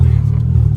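A tuned K24-engined car revs hard during third-gear wheelspin, a loud, steady, close engine roar that holds through the whole short burst.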